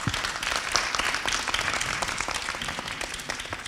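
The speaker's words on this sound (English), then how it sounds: "why don't we have another warm round of applause to thank our panelists and our moderator" Conference audience at a smart city telecom event applauding panelists and a moderator, steady dense clapping throughout, moderately loud and even with no talk over it.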